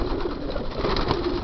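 Racing pigeons coo in a loft, a low, throaty, continuous murmur from several birds overlapping close by, with no voices.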